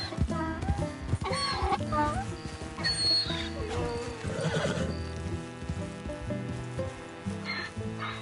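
A horse neighs and whinnies in Red Dead Redemption 2 over hoofbeats and game ambience, with a short spoken voice mixed in.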